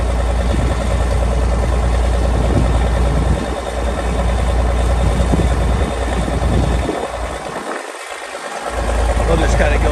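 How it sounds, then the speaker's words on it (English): Diesel engine of a 1982 International 5088 tractor idling steadily nearby, a continuous low rumble with a brief dip near the end, with people talking over it. "Nice healthy sounding motor."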